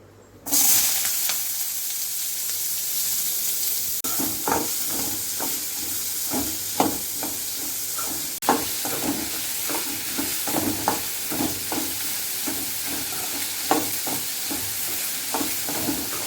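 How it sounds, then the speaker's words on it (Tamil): Large onions fry in hot oil in a pan for an egg dish, giving a steady loud sizzle broken by regular scraping strokes of a spoon stirring, with no talking. "எண்ணெய் சூடானா பெரிய வெங்காயத்தை போட்டுக்கிடுறேன்"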